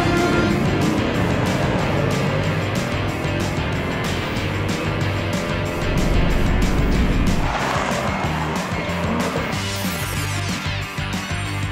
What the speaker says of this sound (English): I was racing against a Mercedes AMG GTR and an Aston Martin DB11 in a goddamn Jeep.